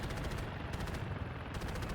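Rapid bursts of automatic gunfire crackle continuously, dense and loud, a sustained firefight in the video game Delta Force while flying a helicopter.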